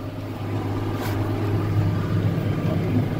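Tractor pulling a hay baler through a windrow, a steady low engine and machinery drone that builds slightly in loudness, with a brief higher burst near the start.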